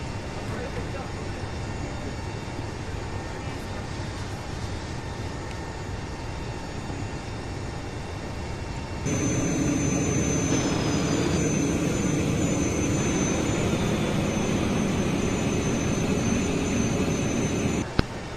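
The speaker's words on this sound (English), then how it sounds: "We are starting the APU now, so stand by for ground power disconnection." Airbus A380 auxiliary power unit spooling up in a flight simulator, a steady broadband turbine roar stepping up sharply midway with a high whine joining in and holding level, with voices talking over it.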